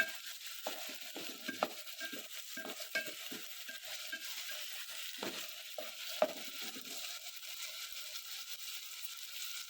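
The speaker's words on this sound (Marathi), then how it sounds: "चांगलं परतायचं आहे तेलात चांगलं भाजून घ्यायचं आहे ना" Pavta beans roast in hot oil with steady broadband frying noise, broken by repeated scraping and stirring knocks from a spatula in the pan, at a moderate level with no talking.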